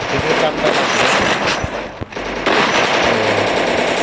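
Rapid shotgun blasts from a video game ring out in quick succession, loud sharp reports with a brief pause midway, while a player talks over the firing.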